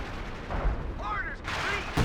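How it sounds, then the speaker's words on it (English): Howitzer artillery fire in Company of Heroes 2 booms through dense battle noise, with distant explosions and bursts layered under a commentator's continuous talk. "That is basically all the infantry from DarkElllf destroyed by the howitzers there"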